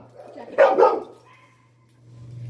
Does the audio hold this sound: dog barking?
yes